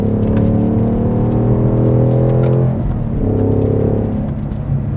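A 2021 Ford Mustang Mach 1 with Handling Pack and MagnaRide rounds a roundabout, its engine droning loud and steady from inside the cabin, the tone dipping briefly midway before settling back into a continuous hum.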